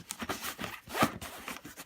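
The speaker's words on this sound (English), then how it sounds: "So let's zip it on up." A zipper closes a pouch on a backpack made for a Yuneec Typhoon H drone, with several quick, close raspy pulls and no talking.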